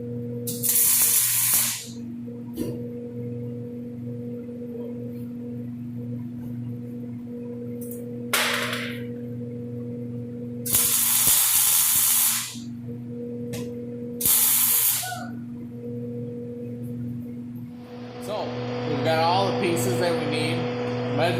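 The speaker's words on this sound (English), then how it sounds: "he's helping me work on welding pieces back together" Welding steel plate for a hay spear quick-attach mount: bursts of harsh spraying hiss lasting one to three seconds, separated by pauses, over a steady electrical hum, with some background noise between welds.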